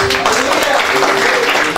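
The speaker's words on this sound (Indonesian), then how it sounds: "Yang ngerti boleh kasih tepuk tangan" A church congregation claps loudly and steadily over a sustained musical tone, with voices faintly mixed in.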